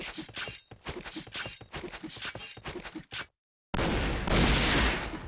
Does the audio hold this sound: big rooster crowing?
no